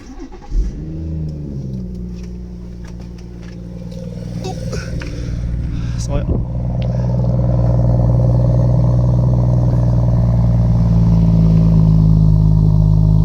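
Cold start of a BMW M140i: a starter whir and sharp engine catch flare up loudly, then the exhaust settles into a steady, deep, rising idle drone close by, with someone talking briefly early on.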